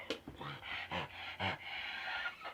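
A dog pants in quick, breathy bursts close by, with a few soft whimpering tones mixed in.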